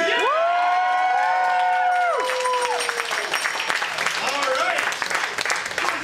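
A crowd at a live geek-versus-nerd debate show claps and cheers loudly, with whoops and shouts rising over sustained applause and a voice speaking near the end.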